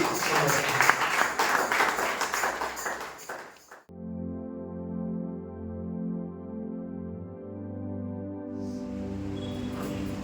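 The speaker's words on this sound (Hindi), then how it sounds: "आइए एक जोरदार ताली केवल उस अब्बा पिता प्रभु यीशु मसीह पवित्र आत्मा के लिए आपका उत्तम ताली" A church congregation claps loudly for about four seconds during a Sunday service, then the applause cuts off into sustained, ringing keyboard chords.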